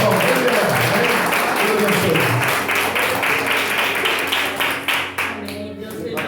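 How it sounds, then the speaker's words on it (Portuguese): Church congregation clapping along during a worship service, a dense, rhythmic wash of many hands beating in steady time and gradually thinning out toward the end, with voices and music mixed underneath. "Vamos aumentar as palmas"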